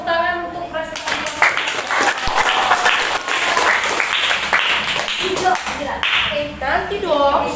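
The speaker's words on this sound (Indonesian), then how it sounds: "Oke, tepuk tangan untuk presentasi." Classroom applause for a group presentation: students clap in a lively, uneven burst, with voices chattering and calling out over and between the claps.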